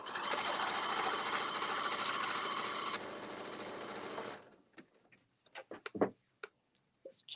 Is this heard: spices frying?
no